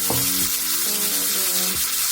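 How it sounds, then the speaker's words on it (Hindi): Cumin seeds and boiled chickpeas sizzle and crackle in a hot pan, a steady close frying hiss with a few stirring scrapes and tonal clinks, with no talk over it. "इसमें जीरा भी तड़क रहा है"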